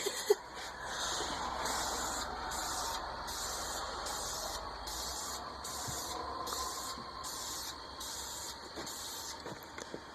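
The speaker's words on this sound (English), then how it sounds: "We're gonna spray the flowers black too." Repeated short hissing bursts from a spray paint can pulse in an even rhythm, close by, with a faint clatter now and then between sprays, painting flowers black.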